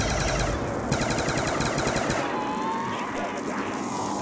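Rapid bursts of gunfire in Call of Duty: Black Ops 2 Zombies rattle continuously, dense automatic shots filling the clip with no talking.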